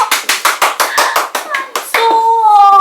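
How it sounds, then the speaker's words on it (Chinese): A group claps in a quick, even rhythm, about ten sharp, close claps in two seconds. The clapping stops and a voice begins speaking. "拍手哦！"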